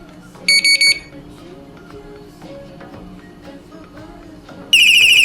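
A loud electronic anti-theft alarm from an ANTUSI A8 bike tail light sounds in two bursts, a short triple beeping pulse near the start and a harsh continuous siren tone at the end, over quiet room noise.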